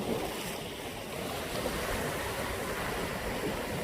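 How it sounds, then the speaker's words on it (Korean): Ocean waves roar in a steady, unbroken wash of surf against the rocky shore at Yongbawi in Goheung, South Jeolla, Korea, with wind buffeting the microphone throughout and no voices. "파도 소리도 좋고"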